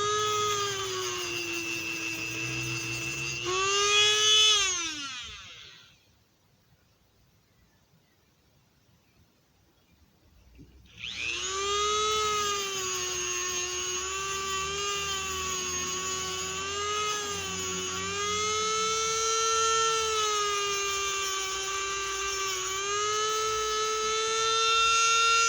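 A high-pitched whining power tool with a sand pad runs loud and steady, pitch wavering, stops for several seconds of near silence, then spins up again and runs continuously.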